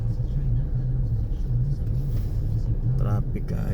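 Heavy road traffic in Bohol, with big dump trucks in the mix: a loud, continuous low engine rumble close by, with a voice briefly over it near the end.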